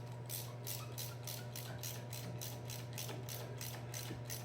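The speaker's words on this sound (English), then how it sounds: "now we're going to get our ratchet then we're just gonna tighten these guys up" A ratchet tightens brake caliper bolts, a rapid, even train of clicking pawl strokes, close and moderately quiet over a low steady hum, with no talking.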